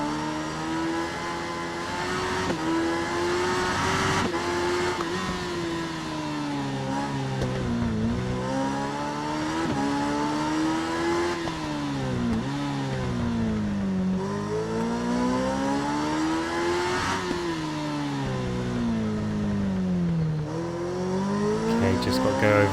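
Superbike engine in RIDE 3 racing through a twisty mountain section, a loud continuous whine rising and falling with each throttle and gear change, with a voice talking over it.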